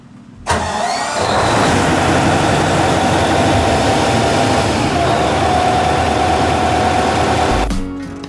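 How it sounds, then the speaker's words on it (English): Twin marine engines in the engine room of a Jarrett Bay 60 sportfishing boat start up and run, a loud, steady, close mechanical roar that fills the space for several seconds before cutting off abruptly. "this room can really get lit up with noise when these engines are running."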